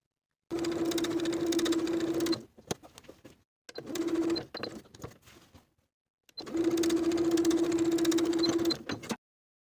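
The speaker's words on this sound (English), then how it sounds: "we're going to top stitch along those pressed edges" Sewing machine top stitching along pressed fabric edges of a dress bodice, three close runs of steady whirring with short pauses between them.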